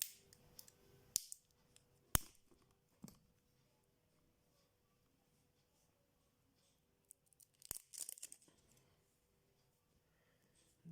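Thin blue plastic film being cut and peeled off sealed batteries from an Eveready torch, heard as sharp snips and crackly tearing in short bursts near the start and again toward the end, close and fairly quiet, with near-silent gaps between.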